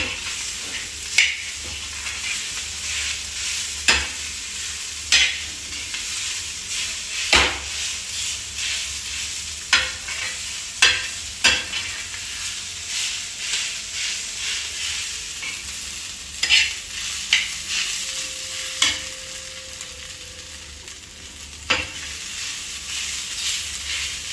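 Ground pigeon peas stir-fried in a pan with garlic over a low flame, a continuous close sizzle punctuated by sharp rhythmic spatula scrapes every second or two, no talk.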